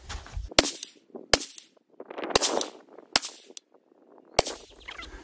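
Suppressed rifle shots fired at a 100-yard target range: five sharp cracks spaced about a second apart, close and loud, with quieter handling and shuffling noises between them.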